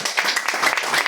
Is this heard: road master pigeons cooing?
no